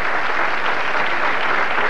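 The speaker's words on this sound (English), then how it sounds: "Fans continue to cheer here at Bradley Bowl in Windsor Locks, Connecticut" Bowling fans at Bradley Bowl in Windsor Locks, Connecticut, clap and cheer in a dense, steady roar of applause that fills the whole stretch without a break.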